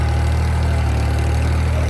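A tractor engine runs in a field with a steady, rumbling drone that holds even and loud throughout, with no voices over it.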